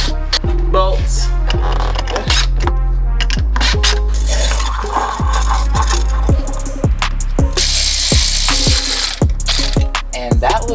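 A hand ratchet wrench with a socket clicks in quick repeated strokes while tightening suspension bolts on a Cummins-powered truck, loud and close, with occasional metallic clinks and no talking.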